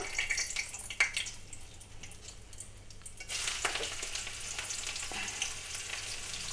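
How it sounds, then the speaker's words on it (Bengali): Nigella seeds and a bay leaf hitting hot oil for tempering, a soft sizzle with a sharp click near the start, then a louder, denser crackle building over the last half. "এতে কালো জিরা ফোড়ন দিয়ে দেব একটা তেজপাতা"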